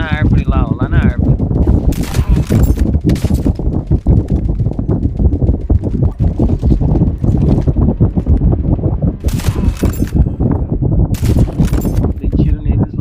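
Dense bursts of gunfire in Call of Duty: Mobile battle royale crackle loudly over a constant noisy backdrop of wind and engine-like rumble while a person talks throughout.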